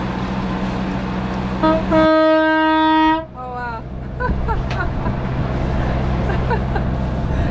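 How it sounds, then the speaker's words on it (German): Horn on a sailing boat underway off Mexico, one loud, steady honk lasting about a second, standing out over constant wind and water noise, with people talking around it. "ich muss so zeigen, dass wir eine Hupe haben"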